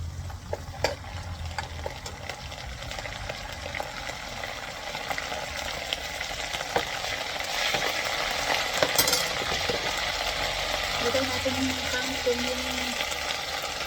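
Garlic, onion and bagoong shrimp paste sautéing in a pan ahead of kangkong, a steady sizzle with intermittent scraping stirs, and a person speaking at points over the cooking.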